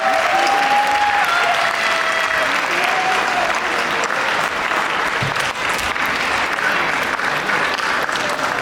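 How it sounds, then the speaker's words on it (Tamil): An audience claps loudly and steadily at a Tamil school graduation, a dense continuous wall of applause with faint voices mixed in. "நல்லா கைத்தட்டலாம்."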